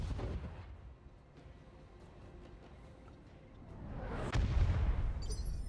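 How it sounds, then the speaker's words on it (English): Heavy weapon fire from a mech combat video game rumbles continuously, building to a loud, deep booming blast near the end with no voices over it. "Fire downrange."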